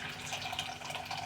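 Water pours steadily into a bowl of soft bread dough mixture made with milk, yeast, egg and salt, a brief close splashing trickle with no voices.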